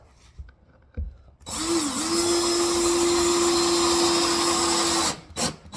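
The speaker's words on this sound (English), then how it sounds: "So now I can go ahead and screw in at least this end of it." A power drill drives screws into hardwood flooring during a farmhouse renovation. The motor spins up quickly, then holds one loud, steady, close whine for about three and a half seconds before cutting off, with no talking over it.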